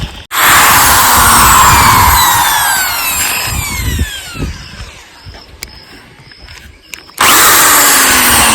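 A power drill backing out a screw, its loud high whine starting abruptly, winding down and sputtering through a quieter mechanical stretch, then surging loud again at the end, close up and with no talk.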